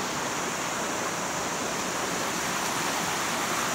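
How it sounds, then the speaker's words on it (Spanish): A waterfall in the Jurutungo nature reserve, a steady broadband rush of falling water that holds constant and fills the scene with no voices. "Mire qué cascada más hermosa se ve allá."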